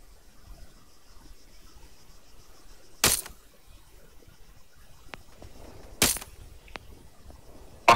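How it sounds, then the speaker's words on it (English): Gunfire in the video game Arma 3 during a fight against AI enemies on Malden, heard as a few isolated sharp shots cracking out a couple of seconds apart over a quiet background. "They're shooting at you, mate."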